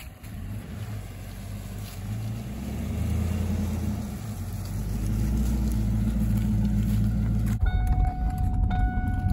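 Engine of a Mustang Cobra idling and running on a test drive, a steady low rumble that builds in level partway through and continues loud and close.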